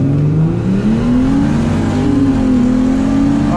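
A Mercedes SLK32 AMG engine drones loudly at a drag race, its pitch climbing steadily and then holding as it revs, close and continuous throughout.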